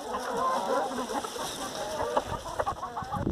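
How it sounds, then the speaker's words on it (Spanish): Hens on a farm in Arahuetes, Spain, cluck and chatter softly at close range in a steady, busy flutter of calls, with some background noise. "salen todas las gallinas."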